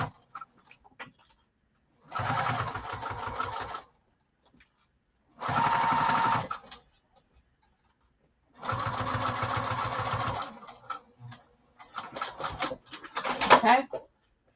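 A sewing machine stitches a garment lining in three steady bursts of about two seconds each, separated by pauses, followed by softer, choppier stitching at the end.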